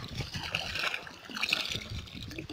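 Cool water running from a windmill pump outlet beside a stream, a soft, close trickle and gentle splashing that swells and eases unevenly, fairly quiet overall.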